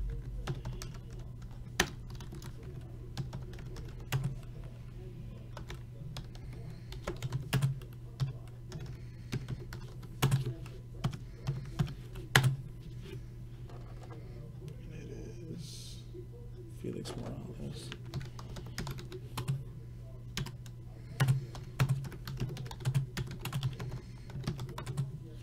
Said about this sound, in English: Let me type this in really quick.